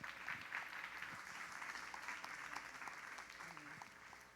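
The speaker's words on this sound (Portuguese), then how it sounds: "Então aplaude o Senhor" A church congregation at a Pentecostal worship service applauds in a faint, distant, continuous wash of clapping that holds steady throughout, with indistinct voices mixed in.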